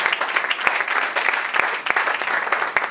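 A church congregation applauding together, a dense continuous wash of clapping with some sharper individual claps, loud and close, sustained throughout without pause.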